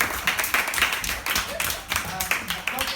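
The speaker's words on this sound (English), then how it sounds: "Can you guys give Ty a round of applause," Students in a classroom clap in a steady round of applause for a classmate's Chinese presentation, dense and close, with some voices mixed underneath.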